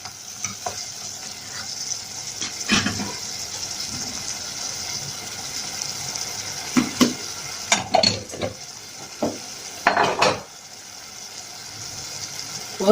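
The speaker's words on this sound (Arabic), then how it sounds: "اللحمه هي تتشوحت والبصله" Meat and onion sauté in a pan for an Egyptian okra dish, a steady close sizzle with scattered scraping and stirring clatters from utensils against the pan.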